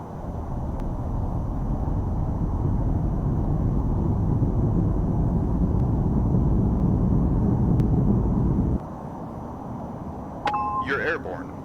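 Jet engines of an F-22A Raptor roar loudly and steadily through the takeoff roll in the VTOL VR flight game, then the roar abruptly drops in level, with a short electronic chime near the end.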